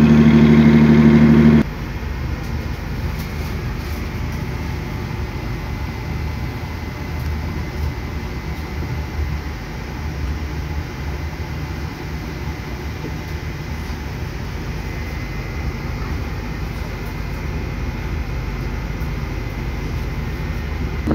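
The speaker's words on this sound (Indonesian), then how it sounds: "Ini pembangkitnya berisik banget nih." The noisy power generator car of a Lodaya train, a first-generation stainless steel trainset, drones continuously with a loud, steady low engine rumble and broadband hum, unchanging throughout with no speech.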